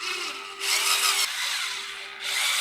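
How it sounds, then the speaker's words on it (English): Screws being turned by hand into metal leg pieces of a DUMOS electric standing desk during assembly, a close scraping and rubbing with a steady squeaking tone, working in bursts with brief pauses and no talk. "Starting the screws by hand again, and screwing them in one at a time"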